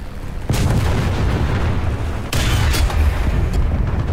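Tank cannon fire in War Thunder from a low-tier tank destroyer's battle: sharp booms at the start and again midway, loud and close, over a continuous rumbling engine and battlefield drone, with no voices.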